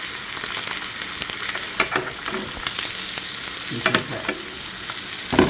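Wagyu steak sizzles steadily in a hot skillet with butter and fresh rosemary, a dense continuous frying hiss broken by a few louder pops and spatters, with a brief remark spoken over it.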